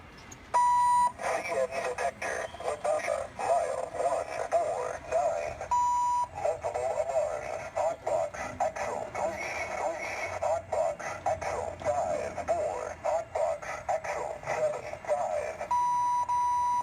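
Audio from a CN DHP-2000 railway defect detector board: a steady electronic tone is followed by a synthesized announcement with beeping tones, then the tone returns, repeating in clear loud cycles.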